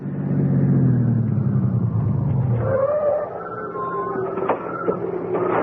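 A car engine hums loud and close, its pitch sliding down as the car slows and settles to idle, followed by faint mechanical clicks and a higher whine at a suburban home after an evening church service.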